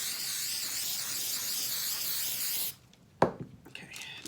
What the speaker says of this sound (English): now they're sprayed